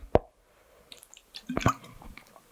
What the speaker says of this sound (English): I'm really trying to make it so you don't hear every time I drink water